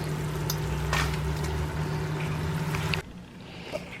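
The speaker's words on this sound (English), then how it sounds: "I'm just gonna give this a quick stir and just leave it continue to cook." Food bubbles and sizzles in a pot with a steady low hiss and faint clinks, then the cooking sound drops away abruptly near the end.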